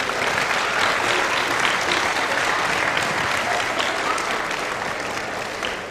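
A school audience at Goodhue School applauds Matt Birk with loud, dense, sustained clapping that holds steady for several seconds and eases only slightly at the end.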